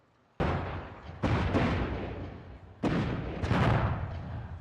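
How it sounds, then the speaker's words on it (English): Firecrackers exploding in Dragon Age: Inquisition: four sharp crackling bursts in quick irregular succession, each with a rumbling, noisy tail, loud and alone. "Firecrackers."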